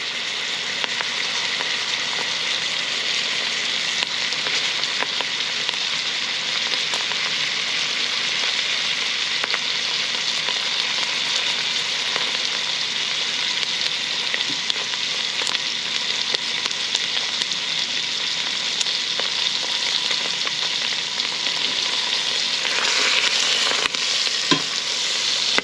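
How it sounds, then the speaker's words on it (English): Still-partly-frozen chicken thighs browning in a pan, a steady close sizzle and crackle of fat that runs on without pause, no voices. "And now we're going to brown off our chicken."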